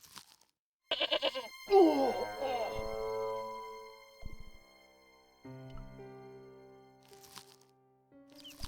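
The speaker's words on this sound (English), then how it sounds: "Stupid goat." A goat bleats loudly and harshly up close in a video game, with a clattering crack before it and game music playing underneath.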